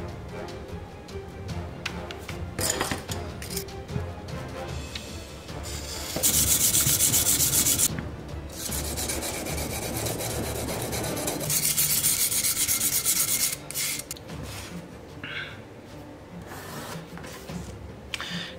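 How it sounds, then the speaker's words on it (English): Leather cutting knife blade being sharpened with honing oil, close rasping strokes of varying length, some long and loud, with no speech. "We're also gonna use some honing oil, sharpen this up"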